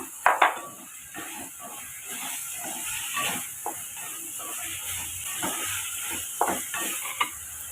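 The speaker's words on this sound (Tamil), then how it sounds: "சேர்த்துட்டு காய்க்கு தேவையான அளவுக்கு உப்பு சேர்த்து வதக்கிக்குங்க" Brinjal and drumstick pieces sautéed with salt in a pan: a steady sizzling hiss with scattered scraping stirs and a few sharper clinks, close and fairly loud, no talking.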